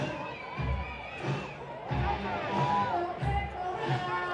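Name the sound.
crowd of fans cheering at baseball stadium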